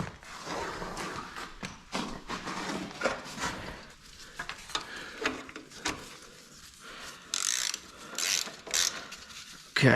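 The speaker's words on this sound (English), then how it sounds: "once the bolt starts to get snug with the chassis, stop and go to the others and snug those up" Ratchet snugging up bolts on a Walker mower PTO gearbox, heard as close bursts of rapid clicking in irregular runs separated by short pauses, with occasional metallic clinks and no talk.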